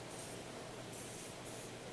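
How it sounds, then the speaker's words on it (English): Cooking oil pan spray hissing onto a baking pan for bread pudding, a steady close aerosol spray lasting about two seconds in short overlapping bursts. "So just a little bit of pan spray there."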